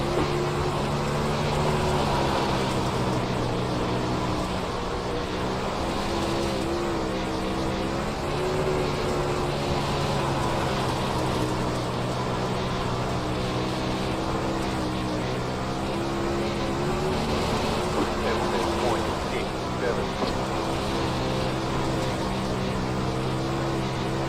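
UMP modified race cars roar under green-flag acceleration on a dirt oval, a dense, continuous engine drone with wavering pitch as several cars run together, steady and loud for over twenty seconds.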